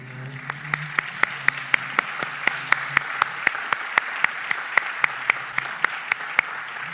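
Applause at a weekly Rotary club meeting for volunteers who painted lockers, a room of clapping with a strong, regular rhythm of louder synchronized claps standing out over the steady patter.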